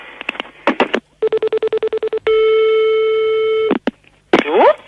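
A telephone line gives a quick run of short beeps, then a long steady tone that stops abruptly, with brief chirps and a rising electronic sweep at the end, loud and close.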